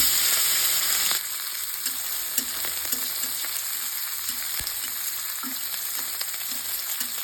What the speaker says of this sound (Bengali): তেল গরম হয়ে গিয়েছে, মাছটা ভেজে নেব।